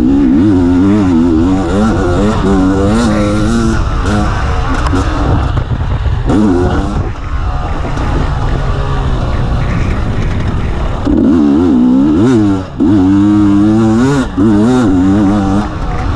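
A KTM EXC 250 TPI two-stroke dirt bike engine revs up and down repeatedly, loud and close, with rising and falling buzzing pitch sweeps throughout.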